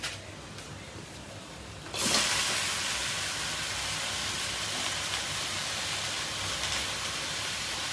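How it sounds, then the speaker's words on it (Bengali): Washed, chopped Malabar spinach set on a stove to boil, a steady hiss and sizzle that switches on abruptly and holds loud and even to the end. "আমি এখন চুলাই দিয়ে সিদ্ধ করে নেব।"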